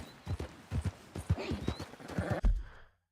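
A horse's hooves clop in a quick trotting rhythm on the ground in Red Dead Redemption 2, close and distinct, with a faint snort or whinny mixed in before the sound cuts off.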